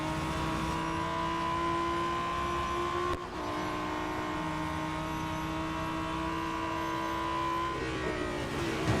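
Race cars in the Real Racing 3 mobile game, engines droning with steady tonal whine and shifting pitch as the pack runs close, one brief dip midway, continuous and loud without talk.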